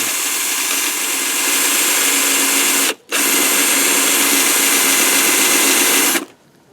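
A power drill whirs loudly at a steady high pitch while drilling out soft plastic in a Jeep Commander door handle, stops briefly, then runs again for several seconds before cutting off.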